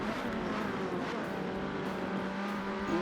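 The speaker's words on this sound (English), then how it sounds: "He drifts out wide slightly, but Newt can't get any traction out" Ferrari 360 Challenge Stradale race cars lapping Laguna Seca, a steady distant engine drone with no speech.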